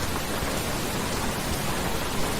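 Rain falls in the Roblox video game as a dense, loud, steady hiss that stays even throughout, with no voices over it.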